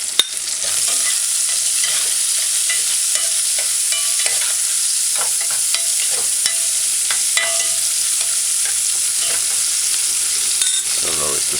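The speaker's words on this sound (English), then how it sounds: "Allow it to saute." Ackee and saltfish with sweet pepper sautéing in a pan, a constant loud sizzle with occasional stirring scrapes and clinks, close and with no talking.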